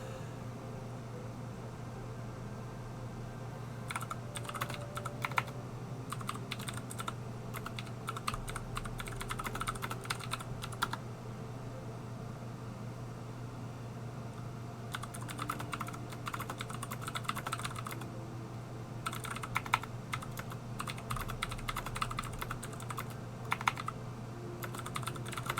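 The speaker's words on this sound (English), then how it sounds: "Keyboard ASMR. I mean, I know you like the clicky clack noise" Clicky computer keyboard typing comes in quick bursts of sharp keystrokes separated by pauses, close and moderately loud over a steady low electrical hum and faint background noise.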